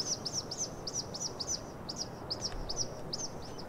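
A bird in the video game Life is Strange: True Colors chirps in a quick, regular series of short high tweets over a soft, steady ambient bed, with no one speaking.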